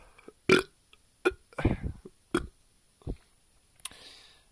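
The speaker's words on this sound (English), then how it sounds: "if I burp, it's a sign of a good beer" A single loud, close burp after drinking Cobra King beer, a rice lager, stands out clearly among a few softer clicks and mouth noises, with no talk.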